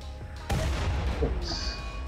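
RimWorld video game gunfire: a single loud booming shot lands partway in, followed by a rumbling tail and a faint high tone, with no speech over it.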